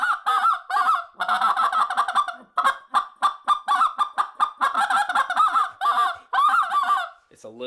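DRC crane call blown in a rapid series of loud, rolling, raspy croaks and trills, each burst close and distinct with brief pauses between.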